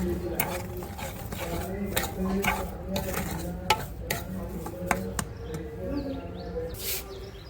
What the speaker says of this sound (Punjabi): ਹੁਣ ਇਹਨੂੰ ਚੰਗੀ ਤਰ੍ਹਾਂ ਕਾੜਾਂਗੇ ਜਿੰਨਾ ਚਿਰ ਇੱਕ ਤਾਰ ਦੀ ਚਾਸ਼ਨੀ ਨਹੀਂ ਬਣਦੀ